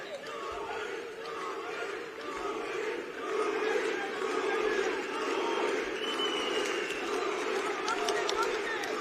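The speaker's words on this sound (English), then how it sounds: "the Albanian crowd in here are really spurring their man on" An Albanian crowd at a boxing card roars continuously in support of their fighter, a dense wall of cheering and shouting that swells midway while a commentator's voice runs over it.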